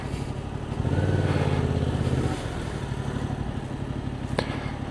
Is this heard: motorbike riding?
yes